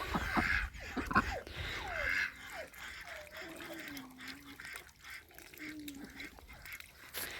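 Several ducks quack and honk nearby in irregular bursts, with splashing water and a person speaking softly in the background.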